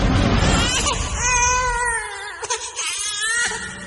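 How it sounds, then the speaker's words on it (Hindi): An infant cries in a Hindi horror drama, loud and close, with sustained wailing sobs that break into shorter whimpering catches toward the end. "रोने की आवाज सुन के वो पलटी"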